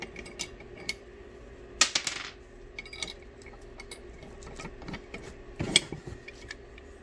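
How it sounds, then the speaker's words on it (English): A thumb screw being fitted into a workshop tool: a few sharp metallic clinks and rattles of small metal parts, near and fairly quiet, with two louder clacks and no talking. "came up with a nice thumb screw, which we will now replace in this tool"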